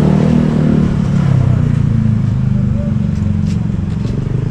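A motorcycle engine rumbles low and steady throughout, close and fairly loud, with people talking over it.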